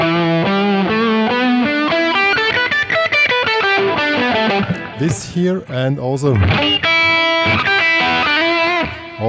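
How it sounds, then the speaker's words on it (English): A distorted electric guitar plays slow blues chords and melodic runs, loud and close, with someone talking over it. "I want to have a more distorted sound here"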